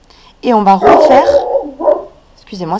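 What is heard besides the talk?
dog barking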